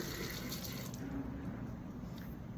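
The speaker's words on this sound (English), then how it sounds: "We're gonna get this out and we're gonna rinse this off." Tap water runs steadily into a kitchen sink as something is rinsed under it, a soft continuous hiss and patter, faint and without voices.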